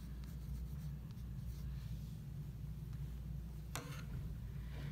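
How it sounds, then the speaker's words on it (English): Pencil writing a name onto a plastic friendship bracelet loom, a close scratchy scribble running steadily under a low background hum, with a brief sharper stroke near the end. "you want to write your name on your loom as soon as possible"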